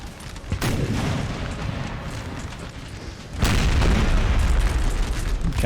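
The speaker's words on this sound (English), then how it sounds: "this cannon can get a nice shot in those troops there if they wanted to" Cannon fire in the battle game Napoleon: Total War, two heavy booms landing a few seconds apart, the second louder and followed by a rumbling tail, with battlefield ambience between the shots and no voices.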